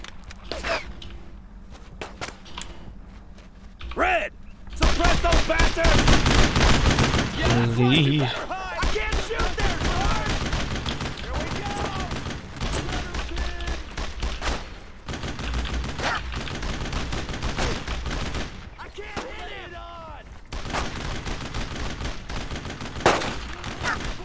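Rapid rifle and machine-gun fire in a Brothers in Arms: Road to Hill 30 battle at Vierville, loud bursts and scattered shots mixed with shouted commands and voices throughout.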